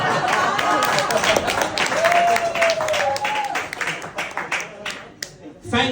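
Comedy club audience in Malaga bursts into loud applause and clapping after a stand-up joke, a dense wash of hands that swells and then thins out into scattered claps, with a voice briefly audible underneath.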